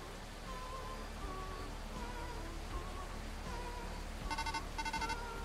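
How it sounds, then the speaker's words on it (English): Steady rain falls at night in a video game, a soft continuous hiss with faint drips, joined near the end by a few short bursts of electronic beeps. "It's nighttime and it's raining."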